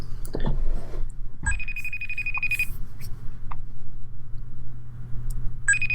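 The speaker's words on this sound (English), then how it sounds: "It's ringing, if you can hear that." A FaceTime video call rings, an electronic ringtone chiming in short repeated bursts over a low background hum, sounding twice with a pause between.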